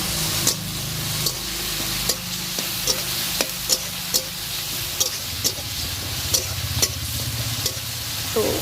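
Onions and chopped ginger fry in a pan over a strong wood fire, with a constant loud sizzle broken by regular sharp scrapes and clacks of a spoon stirring every half second or so.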